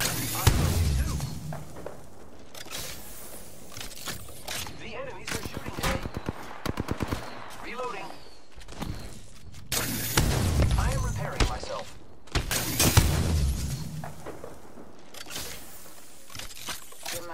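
Video game gunfire sounds in repeated bursts of rapid automatic shots and single cracks, loud and close, with stretches of quieter combat noise between them while players talk over it.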